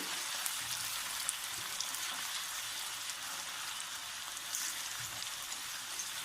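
Onions frying in a pan for a spiced dal dish, a steady dense sizzle that crackles evenly throughout with no pauses and no voices.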